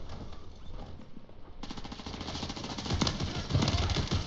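Gunfire in the Warzone 3 video game, with a dense, rapid rattle of automatic shots that grows louder and busier over the game's background noise.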